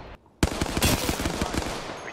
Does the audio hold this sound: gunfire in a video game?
yes